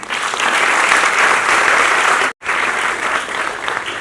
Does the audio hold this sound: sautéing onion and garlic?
no